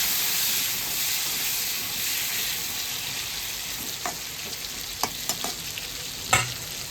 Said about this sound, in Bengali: পটলটা নেড়ে দিচ্ছি আমি